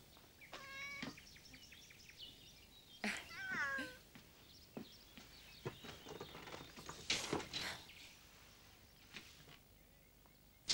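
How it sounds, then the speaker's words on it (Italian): A soft, long-haired pet cat meows several times in a quiet indoor room, with short, clear calls spread across the stretch and light rustling and movement noises between them. "Come sei morbido, Micio."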